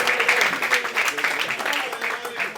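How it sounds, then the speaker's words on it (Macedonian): An audience applauds for the boy Gorjan at a theatre promotion, a dense, steady round of clapping from a crowd throughout, with a voice heard faintly over it. "Ве молам еден аплауз за него"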